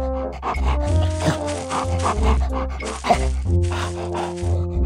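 A puppy pants and gives short yipping barks in uneven bursts, fairly loud and close over a low droning background.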